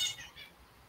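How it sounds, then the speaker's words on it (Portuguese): Birds call outdoors in a brief, faint burst of high chirps at the very start, fading quickly into quiet background. "vem aqui comigo aqui escutar os barulhinhos dos pássaros"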